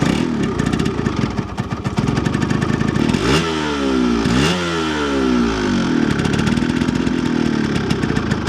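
Motorcycle engine running steadily with a rapid clattering pulse, close and loud, with a couple of brief revs rising and falling in pitch midway.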